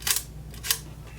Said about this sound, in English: And the shutter opens and closes.